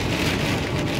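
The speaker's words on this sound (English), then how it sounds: "it's raining like a mother right" Heavy rain pours down on a car, a dense, loud, continuous drumming roar with no voices.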